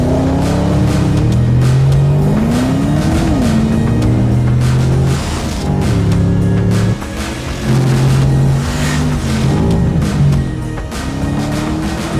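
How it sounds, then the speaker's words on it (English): A 2021 Porsche Panamera is driven hard at the Nürburgring, its engine loud and close as it revs up and down through repeated gear changes and brief lifts off the throttle. "Our test driver Lars Kern recently drove the car at the Nurburgring and showed what the new Panamera is capable of."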